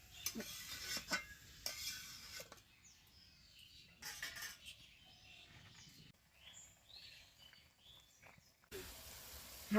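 Cauliflower and potatoes tipped into a pan and stirred with a metal spoon, with scattered scrapes and clinks against the pan, soft sizzling between them, and a louder clatter at the end.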